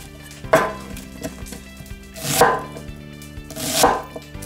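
Knife chopping an onion on a cutting board in a home kitchen, three loud, separate thuds about a second and a half apart, with faint kitchen clatter between them and no talking.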